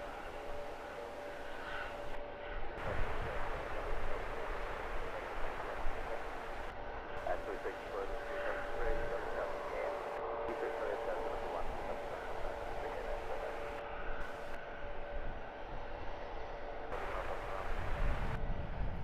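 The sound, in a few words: EasyJet aircraft departing Luton Airport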